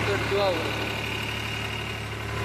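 A tractor engine in rural Satara runs at a steady idle, a continuous low hum that stays level and fairly close throughout, with a brief whine rising over it near the start.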